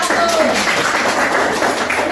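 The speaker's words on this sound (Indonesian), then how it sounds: "tepuk tangan buat kelompok 1" Brief burst of applause for a student group's presentation in a classroom teaching assessment, a dense steady clapping wash lasting a couple of seconds, fairly loud and close.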